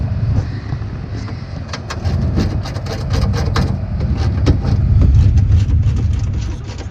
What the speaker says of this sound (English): the other is playing with his motorcycle